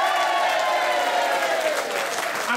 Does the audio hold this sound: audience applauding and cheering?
yes